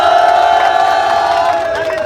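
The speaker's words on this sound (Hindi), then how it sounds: "इनको ये सोल दोदुम के समर्थकों की ओर से जोरदार तालियां भी बज रहे हैं" Supporters at a protest in Itanagar raise a loud, dense crowd roar of cheering and shouting that stays close and steady throughout, with no distinct voices standing out.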